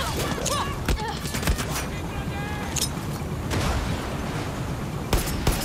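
Explosions and rapid gunfire in the Far Cry 6 video game, dense crackling blasts and booming bursts running throughout, with brief voice fragments mixed in.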